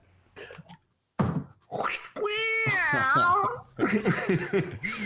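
A cartoonish cat meow sound effect plays on a talk show, a loud drawn-out wavering yowl in the middle, with brief cough-like and laughing voices before and after it.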